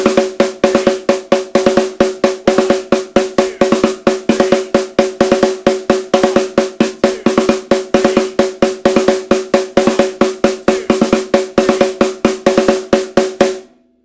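A drum kit plays a fast, dense snare pattern grouped as 5-3-4-4, with sharp, evenly repeating hits that drive steadily for about fourteen seconds before stopping abruptly.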